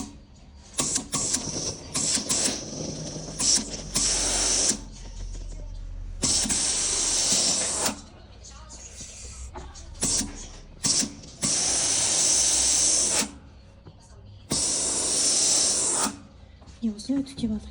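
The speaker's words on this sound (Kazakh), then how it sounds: "Осылай өтіктеп алдық." A steam iron presses a seam on a sewing project, with repeated loud hissing bursts of steam lasting one to two seconds, separated by quieter gaps with soft handling sounds.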